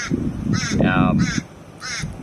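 A crow caws outdoors several times in a loose series of harsh calls, fairly close and clear, while someone talks over them.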